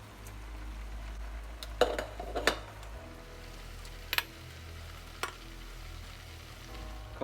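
Canned mushrooms and deer meat fry in a pan with a low, steady sizzle, broken by a few sharp clicks and scrapes of a utensil against the pan.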